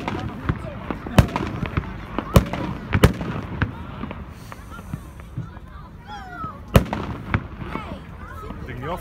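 A multi-shot firework battery fires the finale of a 2018 Vuurwerk Berkel fireworks show, with sharp loud bangs in an irregular rapid series, crackling and whistles between, and people talking throughout.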